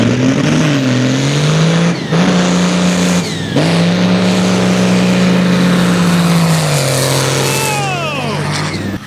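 Mud buggies drag racing, a Buick against a Cummins, engines roaring and revving hard with shifting pitch, loud and close, sweeping upward bursts near the end as they pass.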